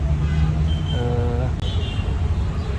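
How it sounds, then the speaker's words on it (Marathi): Dense city traffic around an Eicher bus in Andheri, Mumbai, a steady low rumble of engines with a brief tonal horn toot, all continuous and close, with voices talking over it. "ट्रॅफिक खूप आहे त्यामुळे खूप त्रास होतो आहे"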